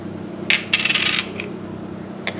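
Peppercorns drop in two quick clattering bursts into a stone mortar, with a lone tick just after, close and crisp.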